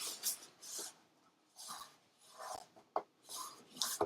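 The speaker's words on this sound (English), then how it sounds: "And burnish it down." A folded paper edge on a handmade baby-themed mini album is burnished down with a series of short, soft rasping strokes, about seven of them, close and quiet, with brief pauses between.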